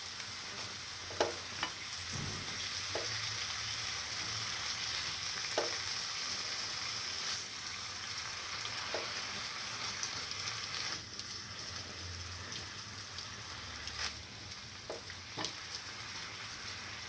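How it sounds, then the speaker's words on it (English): Fenugreek leaves are stirred into a mixture frying in a pan while cooking chickpea fritters, giving a steady sizzle with scattered scraping clicks from the spoon. "Mix in the fenugreek leaves."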